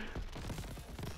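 Rapid gunfire from laser-style weapons in Crab Champion, a third-person shooter roguelite, fast overlapping shots rattling in a quick burst, fairly faint and brief.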